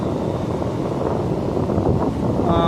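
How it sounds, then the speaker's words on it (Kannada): Strong wind gusting across a beach at sunset, a continuous loud buffeting roar battering the microphone with steady intensity throughout, no voices present. "ಇಲ್ಲಿ ತುಂಬ ಸಖತ್ತಾಗಿ ಗಾಳಿ ಬರುತ್ತೆ"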